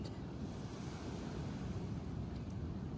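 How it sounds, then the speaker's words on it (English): Surf rolls steadily onto a beach in Sardinia, Italy, a continuous loud wash of breaking waves mixed with wind buffeting the microphone, with no voices. "We're at the beach."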